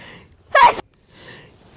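A person sneezes once sharply nearby, with a softer intake and a second sneeze starting at the end, indoors amid allergy complaints during a holiday gift exchange.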